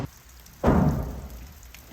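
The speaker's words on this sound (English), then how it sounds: "It just started raining." Rain starting to fall on an off-grid 40x40 workshop being built in the woods, a sudden rush of steady patter that swells in and holds, with no talk.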